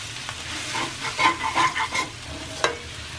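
Boiled potatoes with turmeric and salt being stir-fried in a pan, a bright steady sizzle broken by several rhythmic scraping strokes of a spatula and a sharp knock near the end, no voices.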